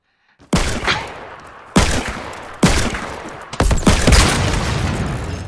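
Loud, close gunshots in a Fortnite match: four sharp blasts spaced about a second apart, each followed by a rumbling decay, the last one running into a longer sustained roar.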